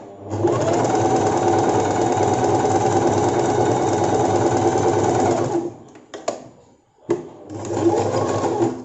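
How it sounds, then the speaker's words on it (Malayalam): A sewing machine stitching a folded hem on a petticoat cut from a saree, running in a loud, steady close whir for several seconds, then stopping and restarting in short bursts. "മടക്കിയിട്ട് ഇങ്ങനെ തയ്ക്കുക."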